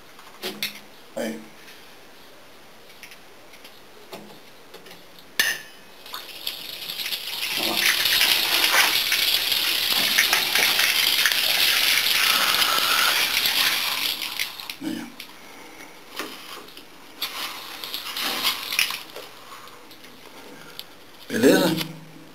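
Water gushes from bathroom plumbing pipes reopened after the fixtures were shut off during a renovation, a loud sustained broadband rush lasting several seconds before trailing off, with scattered clunks and a voice before and after.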